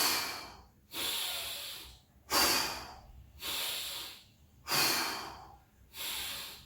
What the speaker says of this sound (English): Long inhale, exhale, belly button up and in, hold, and repeat for 10 breaths.